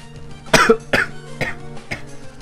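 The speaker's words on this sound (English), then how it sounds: "Random coughing." Four separate coughs, fairly close and loud, spaced roughly half a second apart, with a quiet background between them.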